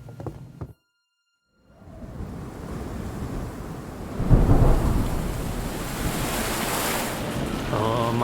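A thunderstorm in Kingdom Come: Deliverance II opens with brief sound, cuts to silence, then builds into a broad wash of rain and wind, swelling to a loud rumble midway and staying heavy to the end.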